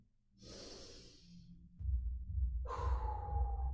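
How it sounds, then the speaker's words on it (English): A person lets out a long breathy exhale after deep inhales during a resting yoga-style pose in a workout, followed by a low rumbling breath sound; close and fairly quiet with no speech. "I want you to take two big inhales and let it go."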